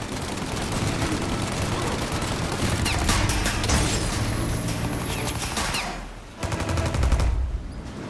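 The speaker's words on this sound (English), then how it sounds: "Shoot the gun! Shoot now while we got the chance!" Gunfire in Mafia: Definitive Edition: dense bursts of rapid shots and a machine-gun fusillade crackle continuously through most of the stretch, with a brief lull near the end before more shots.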